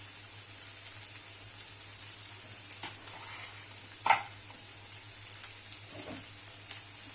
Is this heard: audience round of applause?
no